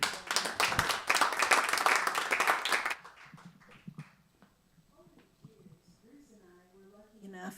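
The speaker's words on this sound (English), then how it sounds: "Let's give her a round of applause." An audience at a folk festival memorial tribute claps in a loud burst of applause that stops abruptly, followed by a single voice talking quietly in a room.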